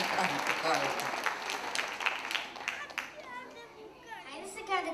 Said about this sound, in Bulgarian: Аплодисменти за бабата.